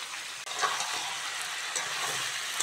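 Vegetables and chicken fry together in a pan for a light chicken jhol, giving a steady, close sizzle with faint stirring scrapes throughout and no talk.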